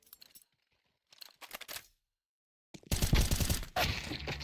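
Gunfire in a competitive shooter match, scattered short bursts early then a loud sustained barrage of rapid shots, dense and close, with no voices.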